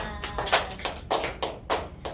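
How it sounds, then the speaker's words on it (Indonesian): A small group of pupils in a classroom clap their hands in a short, rhythmic patter of distinct claps, near and moderately soft, with no talking. "Terima kasih, tepuk tangan untuk kita semua."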